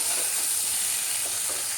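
Shrimp frying lightly in oil in a pan, a loud, even, continuous sizzle close by with faint stirring and no voices.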